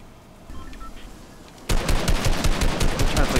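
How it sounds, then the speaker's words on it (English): Rapid automatic gunfire in the video game Fortnite bursts in suddenly and continues loud and dense after a quieter lead-in, with faint game tones beforehand. "Yeah, I see gunshots."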